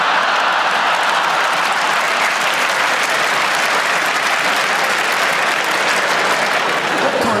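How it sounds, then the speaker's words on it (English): Sustained audience applause at a live stand-up comedy show fills the whole stretch, a dense, steady wash of many hands clapping from the crowd with no break. "What kind of people would clap that?"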